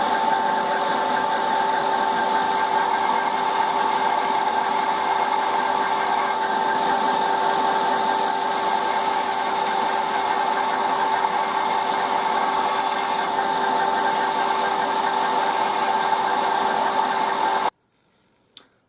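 A knife maker's belt grinder sands and rounds the handle scales of a full tang knife. The motor gives a steady, humming whine with a faint tonal edge, runs close and unbroken, then stops abruptly near the end.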